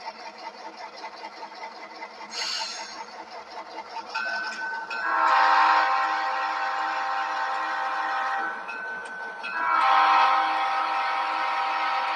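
On a layout during operations, a model train runs steadily, moving a Wabash railcar with a continuous motor whir and rhythmic clicking of wheels over track, rising louder midway, with no one talking.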